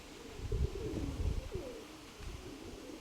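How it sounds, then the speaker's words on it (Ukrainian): A numbered pigeon lands and coos, its soft low throaty calls repeating over a few seconds, close by and fairly quiet against faint background noise. "Це може бути і 31 голубок, бачите, як сідає швидко."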